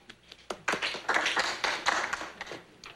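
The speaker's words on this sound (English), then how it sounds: "thank you for that smattering of applause" A sparse smattering of applause from a small studio audience greets a talk-show guest, a few scattered claps swelling briefly then thinning out.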